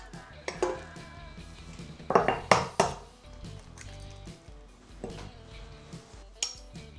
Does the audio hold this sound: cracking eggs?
yes